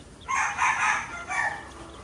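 A rooster crows once among desi chickens, a short loud close call in two bursts over a quiet background, with no voices.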